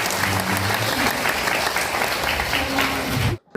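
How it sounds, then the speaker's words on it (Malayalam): Audience applauding at a Christian testimony gathering, dense steady clapping from a large crowd that fills the room for about three seconds, then stops abruptly. "വിശ്വസിക്കുന്നവര് നല്ലൊരു കൈയടി ഈശോ കൊടുത്തേ"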